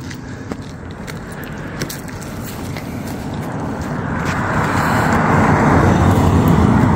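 A car approaches along a road, its tire and engine noise swelling steadily from faint to fairly loud, with light footsteps nearby.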